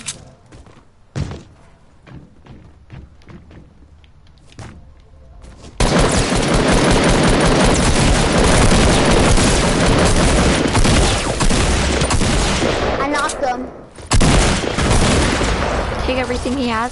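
Heavy video game gunfire erupts after scattered shots, with dense sustained automatic bursts and loud booms dominating, briefly dropping out before resuming; voices talk in the background.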